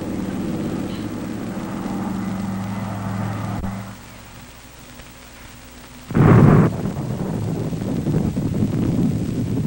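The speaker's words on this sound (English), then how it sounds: "Now, this is an enemy bomber." A wartime enemy bomber drones past as a low, rumbling engine roar that fades into a quieter lull. A loud, wide blast of noise then follows and continues to the end.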